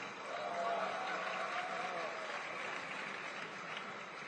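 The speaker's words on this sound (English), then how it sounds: "Let me hear some more claps." Hong Kong Bitcoin conference audience clapping, a moderate wash of applause from a seated crowd that swells briefly early on and then holds steady.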